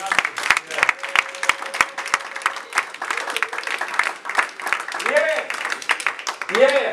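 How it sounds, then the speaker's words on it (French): A church congregation applauds during a sermon in Paris, with steady close applause and scattered cheers running through the clip, and voices calling out near the end. "Est-ce que quelqu'un peut applaudir la parole de Dieu?"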